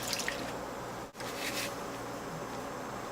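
Water is poured into atta flour to make dough, giving a soft, steady splashing wash of liquid up close, briefly interrupted once, with no talking.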